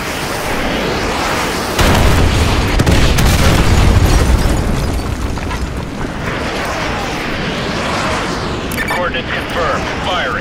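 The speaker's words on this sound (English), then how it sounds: "Fire mission received. Artillery inbound." Artillery strike explosions in the first-person shooter Call of Duty Modern Warfare 2, a loud rumbling barrage of booms that swells and holds for several seconds before easing into a dense, continuous roar of battle.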